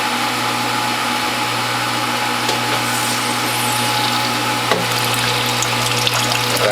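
A WHF juice press squeezing grapes, with a loud steady motor hum and mechanical whine, occasional small clicks, and a faint wet trickle of juice running beneath.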